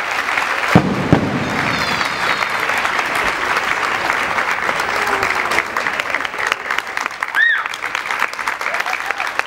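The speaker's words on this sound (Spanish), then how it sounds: "Fuerte aplauso, tanto para ustedes, para las autoridades y por supuesto para el grupo invitado." Audience applause at a folk performance by an invited international group, steady clapping that fills the whole stretch with a brief louder burst near the start and a faint voice or whistle late on.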